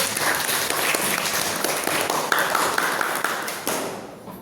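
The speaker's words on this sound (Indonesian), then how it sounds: "tepuk tangan buat Dwi." A classroom full of people applauding steadily, a dense wash of clapping that holds for a few seconds and tapers off slightly at the end.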